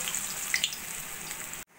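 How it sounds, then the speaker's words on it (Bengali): Batter-coated stuffed kakrol (spiny gourd) frying in hot oil, a steady close hiss with a few brief pops, cutting off abruptly near the end. "একইভাবে সব কাঁকরোলগুলোই ভেজে নেব।"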